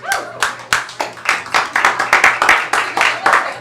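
An audience claps for improv performers taking the stage at a comedy show, a sharp, uneven patter of many hands that builds into a dense, close run of claps, with a voice faintly underneath.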